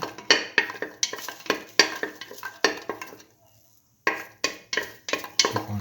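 Shallots being sautéed in a pan for a potato coconut stir fry, heard as rhythmic, close spatula strokes scraping and tossing over a sizzle, with a short quiet pause midway before the strokes resume.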